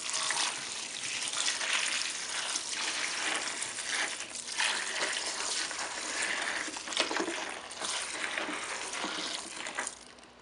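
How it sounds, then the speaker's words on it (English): Bleach pours from its container over pine cones gathered in a container, giving a continuous close gushing, splashing rush of liquid that holds steady for about ten seconds before easing slightly at the end. "I'm going to pour it in over the pine cones."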